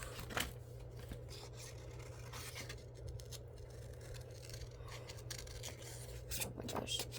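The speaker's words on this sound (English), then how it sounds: "now time to cut out the extra stuff" Scissors snip paper for a paper dragon craft, with several short crisp cuts and rustling handling close to the microphone over a low background hum.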